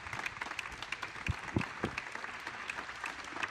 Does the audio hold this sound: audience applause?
yes